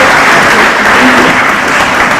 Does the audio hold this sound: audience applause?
yes